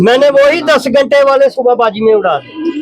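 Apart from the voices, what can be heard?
No distinct noise like a dog, phone or traffic.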